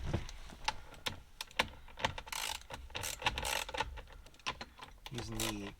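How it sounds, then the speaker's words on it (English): Ratchet with a 10mm socket backing screws out of a dash panel in a 5th gen Toyota 4Runner, giving quick dry clicking bursts in uneven runs, close and fairly loud, with brief rustling between. "it says that we're going to be using a 10mm socket to remove this piece right here."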